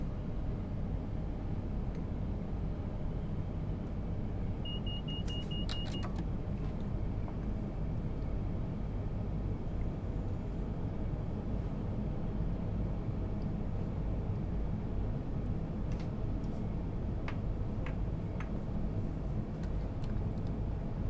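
A Class 170 train in Train Sim World 5 rumbles continuously with a low, steady drone, its engine noise loud and unbroken, with faint clicks and a brief high tone early on.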